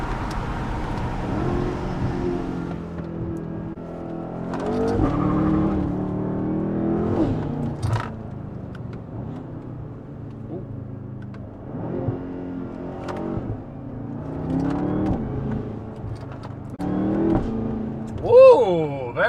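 A BMW F10 M5 V8 fitted with a Valvetronic Designs exhaust accelerates and revs in repeated rising surges, loud and close, with voices talking over the engine at times.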